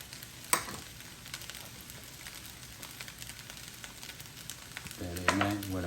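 Turkey fried rice sizzles and gets stirred in a Power XL cooker, with a soft steady frying crackle, a sharp scrape early on, and a voice starting to talk near the end.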